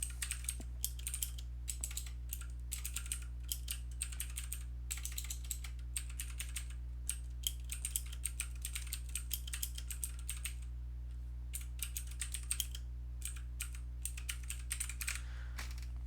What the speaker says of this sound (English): I don't have really the fastest typing speed.